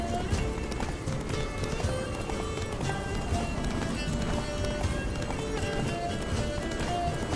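Horse galloping in The Witcher 3, a steady run of hoofbeats under continuous game music and ambience, with a voice talking over it.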